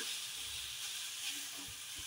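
Tomato and coriander leaves fry in oil in a pan, giving a soft, even hiss with a few faint stirring knocks near the end, quiet and close without speech.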